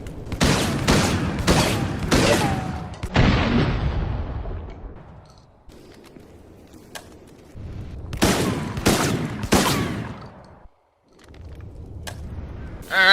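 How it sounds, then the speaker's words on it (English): A Combat Shotgun fires in the video game Resident Evil: Operation Raccoon City, loud close blasts in rapid volleys of four or five shots, each group followed by reload clatter and quieter pauses. "let's test the Combat Shotgun."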